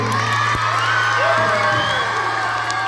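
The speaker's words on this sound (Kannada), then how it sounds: "ಅದರಿಂದಲೂ ಒಂದು ಜೋರಾದ ಚಪ್ಪಾಳೆ ಅವರಿಗೆ ಬರಲೇಬೇಕು" An audience applauds after a stage play about Bhagat Singh, clapping and cheering throughout with whoops and shouts in a lively indoor crowd. Voices mix with the clapping.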